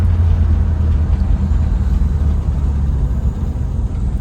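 A 1963 Ford Fairlane 260 V8 with a two-barrel carburetor and a Fordomatic two-speed automatic holds a steady, loud, low rumble as it winds out in second gear, heard close up with no talk.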